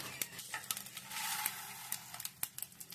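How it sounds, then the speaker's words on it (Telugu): Mustard and cumin seeds sizzling in hot oil while making mint chutney, a steady hiss broken by sharp, irregular crackles and pops, close and alone. "ఒక స్పూన్ ఆవాలు జీలకర్ర వేసుకుందాం"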